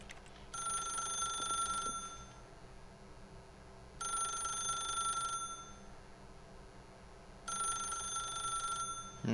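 A telephone rings in The Stanley Parable video game, three long electronic bursts spaced a couple of seconds apart over a low hum of background ambience, with no voices.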